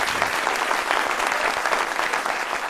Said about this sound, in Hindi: लुक के लिए तालियां एक दफा।